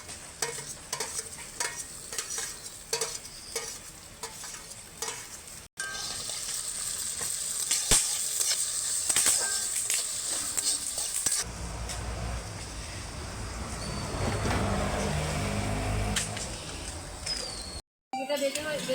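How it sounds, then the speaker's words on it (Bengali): Prawns fry in a pan at home, giving a steady, close sizzle with stirring scrapes and shifting bursts of hiss across the clip. "চিংড়ি মাছগুলো ভেজে নিচ্ছি"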